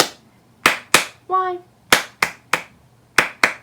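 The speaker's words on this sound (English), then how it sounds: "now we're going to do five claps" Children at a dragon-themed storytime clap along with a song, sharp separate claps in small groups with brief gaps, close and clear, and a short sung word breaking in between them.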